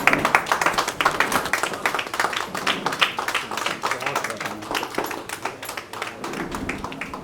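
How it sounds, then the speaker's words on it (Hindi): A standing audience at a network marketing seminar claps steadily and energetically, a dense patter of many hands continuing without a break. "खड़े होकर तालियों से थैंक यू बोल सकते हैं हम सब लोग"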